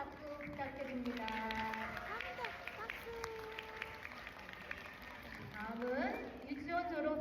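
Crowd applause rises for the teachers who performed at a kindergarten graduation ceremony in Korea, a steady patter of many hands filling the room under chatter and soft background music, swelling again near the end.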